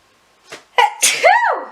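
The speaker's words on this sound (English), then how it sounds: "Oh, I just sneezed." A single sharp sneeze bursts out nearby, preceded by a short intake of breath, then a brief voiced trailing sound as it fades.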